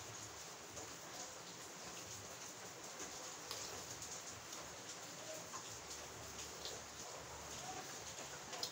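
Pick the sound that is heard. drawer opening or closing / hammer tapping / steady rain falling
steady rain falling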